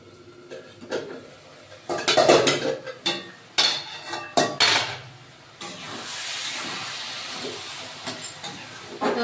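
Bottle gourd curry cooking in a pan, with clattering utensil scrapes and clinks in bursts over a steady hissing sizzle that settles into a continuous simmer.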